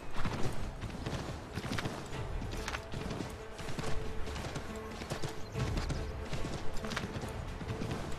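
Horse hooves clip-clop continuously in Assassin's Creed III, a busy, dense patter mixed with loud game ambience and scattered clatter throughout.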